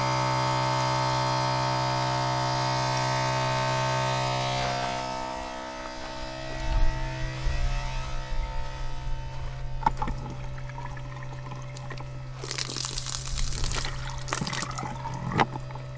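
Water running through a Clearsource Ultra Mini RV filtration system, a steady hum with a rushing flow that turns into irregular splashing and gushing water, close and moderately loud.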